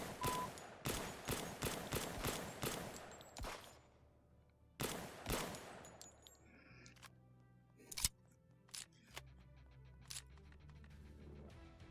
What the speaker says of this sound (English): So I hear shooting, but I don't know where the shooting is coming from.